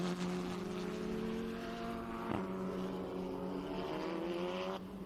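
A Formula Regional Americas race car on a road course sweeps past with a rising then falling engine whine, the pitch climbing through gear changes before the sound cuts off sharply near the end.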